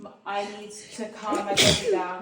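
A single sharp sneeze bursts out near the end, close and loud, right after a person speaking indoors.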